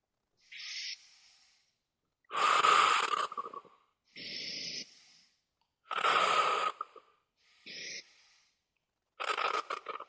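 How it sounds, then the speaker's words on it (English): Slow, deep yogic belly breathing close to the microphone: a series of alternating soft inhales and stronger exhales, each lasting about a second, with quiet gaps between them. "this is called belly breathing or yogic breath"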